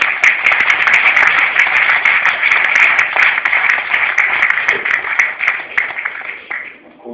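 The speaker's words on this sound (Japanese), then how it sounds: "もう一度ちょっと拍手を。" An audience at a Pakistan–Japan cultural weekend at the Pakistani Embassy in Tokyo gives dense, sustained applause after a song performance, the clapping holding steady and then thinning out toward the end.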